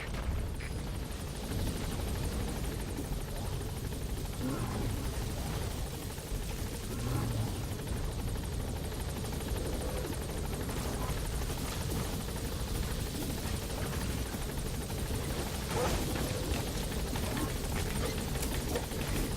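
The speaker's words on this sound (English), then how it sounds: "Alright, the chopper's touching down." A military helicopter touching down in Metal Gear Solid V, its rotor wash a steady, dense roar that runs unbroken and moderately loud throughout, with no voices.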